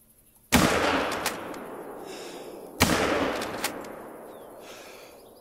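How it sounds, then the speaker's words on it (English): Two loud gunshots from a hunting rifle in theHunter: Call of the Wild ring out about two seconds apart, each sharp crack trailing into a long rolling echo across open ground, with no voices. "I'm just going to keep shooting for a bit. I got 150 something bullets."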